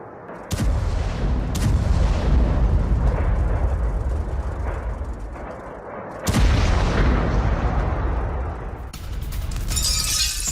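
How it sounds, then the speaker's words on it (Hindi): Two powerful explosions boom in succession, each a sudden blast followed by a long rumbling roar and debris-like crackle, distant but very loud. "तो देखिए, धमाकों की आवाज दूर तक सुनी गई। इतना शक्तिशाली यह धमाका था।"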